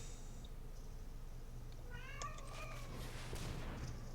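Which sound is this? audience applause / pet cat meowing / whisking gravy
pet cat meowing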